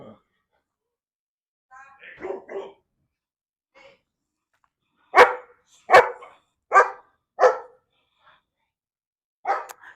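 Dog barks in a short run of four or five sharp, loud calls, close by at an outdoor Florida produce garden with callaloo and sugar cane, with a man's speech and a few more barks around them.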